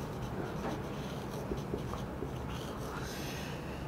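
Marker or chalk writing on a board in a second-year physics lecture, a steady scratching and rubbing that runs throughout amid a dense room-noise bed.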